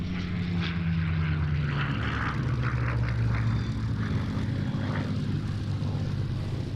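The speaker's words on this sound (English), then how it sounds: "one more memorable solo display, this time by Spitfire Mark 9T ML407, better known as the Grace Spitfire" A Spitfire Mark 9T warbird flies a solo airshow display, its piston engine droning loud and steady as it passes, the pitch sliding lower as the plane moves away.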